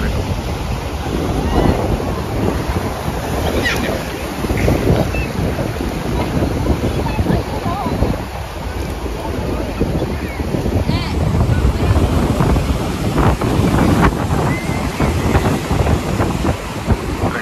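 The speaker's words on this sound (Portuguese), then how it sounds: "hoje tá meio movimentadinho, tem umas ondinhas" Small ocean waves wash at Praia da Costa beach in Vila Velha, a constant rushing surf mixed with gusty wind buffeting the microphone, with faint voices in the background.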